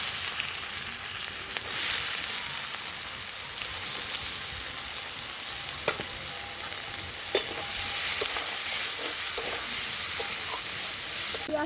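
Chopped onion frying in oil with bay leaf, dried chili and cumin, a continuous close sizzle like light rain, punctuated by occasional clicks and scrapes of stirring, no voices.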